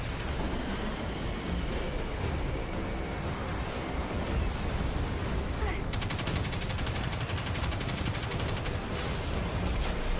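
Sustained gunfire in the Destiny 2 video game, a dense, loud barrage of shots and blasts that runs continuously for about ten seconds with no letup.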